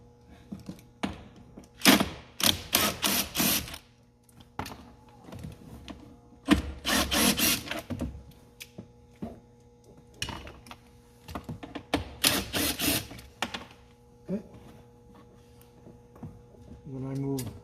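Angle screwdriver backing out screws from an Audi S4 glove compartment: clusters of quick close-up ratcheting clicks in short bursts separated by pauses, with someone talking at times between them.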